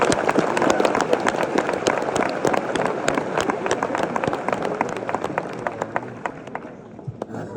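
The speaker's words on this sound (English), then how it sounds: "I give these guys a big round of applause" Audience at a Bear Grylls live tour show breaking into a big round of applause, dense crowd clapping with sharp individual claps standing out, sustained and then tapering off near the end.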